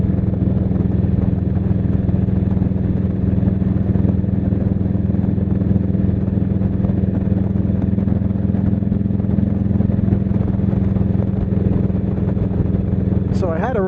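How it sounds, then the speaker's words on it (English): A 1999 Harley-Davidson Road King rides through open farmland, its engine a loud, steady low rumble with a constant drone and wind noise throughout. "Now, the thing about my bike, I have a 99 Road King."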